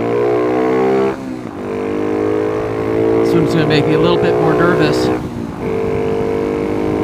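A Honda Trail 125 rebuilt with a 164cc piston and cylinder and fitted with a Takagawa air filter pod runs with a strong, steady buzzing engine tone, rising in revs midway before settling back, while someone talks nearby.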